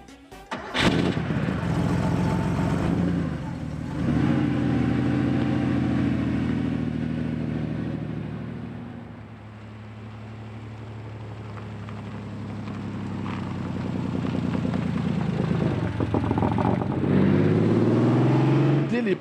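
A Porsche 930 Turbo with a four-speed manual gearbox and rear-wheel drive starts and pulls away, its engine swelling and easing through revs in long surges while someone talks over it.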